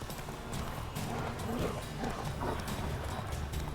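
Galloping horse hooves in a medieval fantasy video game, Witcher 3 in White Orchard, a steady rapid clip-clop rhythm running throughout at close range, with no talk over it.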